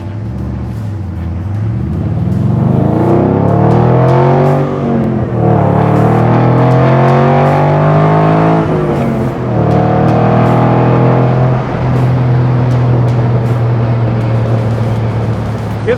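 A 1961 Chevrolet Corvette's engine pulls hard while driving, its low rumble rising in pitch across several gear-like sweeps, then settling into a steady drone, loud and close throughout with no talk.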